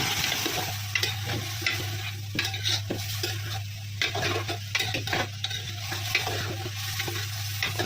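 Chicken coated in spices is stirred in a hot pan, a steady close sizzle with repeated scraping and clinking of a spoon against the metal, and a faint constant hum underneath, with no speech.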